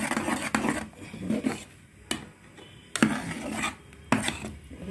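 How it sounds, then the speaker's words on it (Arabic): A spoon scrapes and rasps against a pot while fenugreek is stirred, with sharp clinks at intervals and a gritty rubbing texture in between, close and moderately loud. "نقلب لغايه ما تختفي بقى ايه الحلبه دي خالص خالص"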